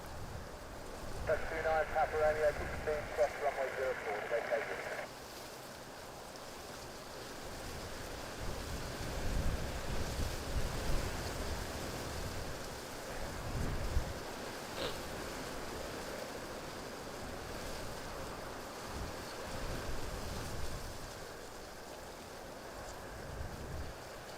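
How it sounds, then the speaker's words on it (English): Breezy wind at Stansted Airport, Essex, gives a steady, low, rushing rumble that buffets the microphone. A faint tone sits over it near the start. "quite a breezy day here in Essex"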